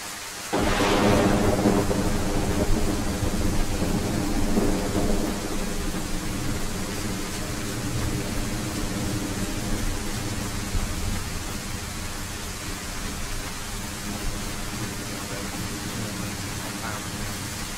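In the video game DayZ, on the Livonia map, a sharp crack of thunder opens into a long rolling rumble over steady, hissing rain that continues to the end, with no voices.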